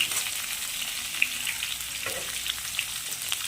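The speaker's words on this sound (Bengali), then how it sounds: "সব আলুগুলো দিয়ে দিলাম দিয়ে একটু নাড়াচাড়া দিয়ে দেবো" Potato pieces frying in plenty of oil in a pan for a home-style fish curry, a steady close sizzle and crackle with light stirring scrapes and occasional pops.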